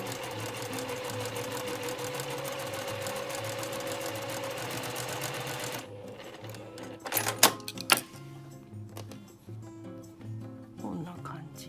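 A sewing machine stitches patchwork fabric in a rapid, steady mechanical whir for several seconds, then stops; someone speaks softly under and after it amid light handling clicks.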